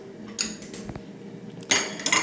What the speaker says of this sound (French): j'ai fini quand même de vider mon lave-vaisselle